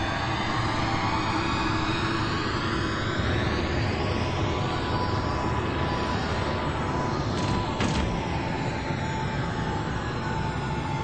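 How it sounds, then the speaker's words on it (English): Radio drama sound effect of the Explorer pod making a low-level flyover above Mars: a loud, steady roaring engine drone that holds for the whole stretch, with no voices. "Spender took the Explorer pod for a low-level flyover"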